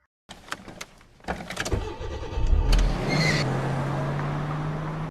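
A stolen car starting up and pulling away in a parking lot in the 2022 film Special Delivery, with door and mechanical clunks before a steady engine drone builds and holds near and fairly loud.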